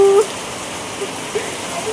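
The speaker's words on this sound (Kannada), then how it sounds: "ಮಳಿ ಇನ್ನು ಜೋರು ಆಗ್ಬೇಕು" Rain falls steadily outside a home, a soft continuous hiss with a few faint drops, while a voice is heard briefly at the start.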